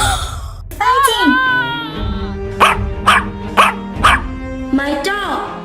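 A cartoon dog in a paper-doll animation lets out four quick, evenly spaced barks, set between drawn-out whining and moaning voices.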